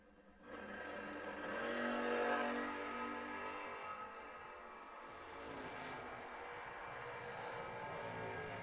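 Drag race cars launch at a memorial bracket race, one of them a green Camaro, engines roaring up loud and then holding a sustained, rising drone as they accelerate away down the strip.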